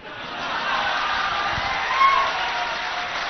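Audience at a political rally in India claps steadily and continuously, a dense wash of applause from a large crowd with a faint voice or two underneath.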